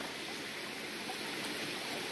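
Steady broadband rush of a stream flowing along its bank at night in a hillside farm area, continuous and even with no voices.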